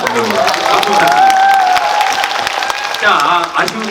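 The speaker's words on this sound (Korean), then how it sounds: "박수 부탁드립니다" An audience applauds at a Korean film screening Q&A for the movie Negotiation at a CGV cinema. The dense clapping runs steadily for the full four seconds, with a sustained musical tone and voices mixed underneath.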